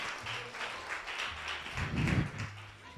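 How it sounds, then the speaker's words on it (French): Studio audience applause on a French TV show, a moderate wash of clapping that swells toward the end, with low rumble underneath. "On peut vraiment l'applaudir."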